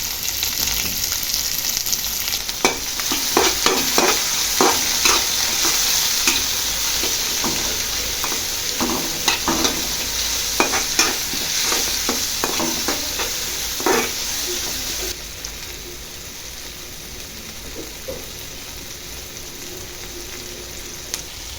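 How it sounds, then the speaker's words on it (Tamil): Onion and tomato sauté in a pan with a constant close sizzle, while a spoon scrapes and taps in frequent quick bursts before the stirring stops and the frying hiss settles lower and steadier. "கத்திரிக்காய் சேர்கிறதுக்கு முன்னாடி வெங்காயம் தக்காளி போட்டு நல்லா வதக்கிக்கலாம்"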